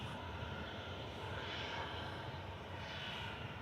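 A Sunno airliner passes at Manchester Airport, a steady, broad jet roar that holds even and fairly distant across the moment.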